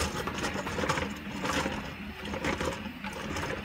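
R2-D2 droid foot mechanism spinning freely on a workbench, giving a steady, close whirring and mechanical rattle that holds at an even level for several seconds.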